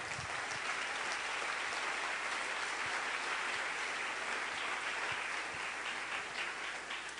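A church congregation applauds during a Sunday service: sustained, even clapping from a large crowd, a continuous fairly distant roar of hands with no speech over it.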